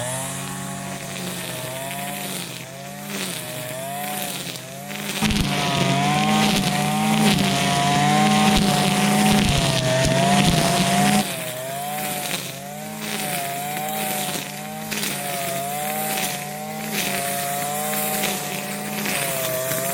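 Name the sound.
Hart brand cutter cutting thick overgrown grass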